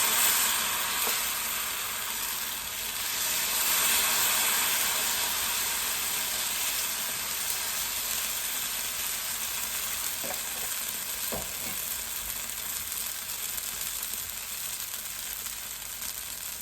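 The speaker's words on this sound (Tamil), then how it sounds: "இந்த புதினா இலை அரைச்சி கலந்த தோசை மாவை இதில் விட்டு இந்த தோசையை சுட்டு கொள்ளுவோம்" Mint dosa batter, made with ground mint leaves, sizzles steadily on a hot griddle greased with sesame oil, a continuous close frying hiss with a few faint clicks and no talk.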